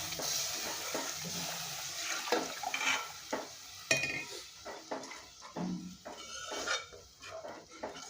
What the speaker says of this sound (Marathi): त्याच्यात आपण आता पाणी मिक्स करणार आहोत।